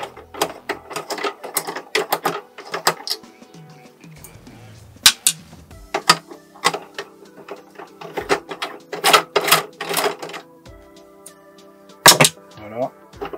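Phillips screws are loosened on the top cover of a Pfaff 1230 OL serger, producing irregular clicks, ratcheting ticks and small plastic and metal knocks close up, with a voice speaking intermittently in between.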